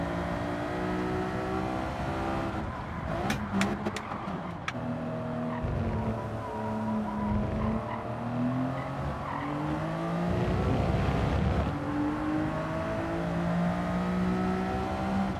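Race car engine in Gran Turismo 7 revving and shifting steadily at high pitch, its whine rising and falling through gear changes, with brief tire squeal and a louder surge partway through.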